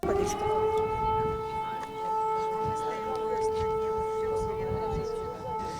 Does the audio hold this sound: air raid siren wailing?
yes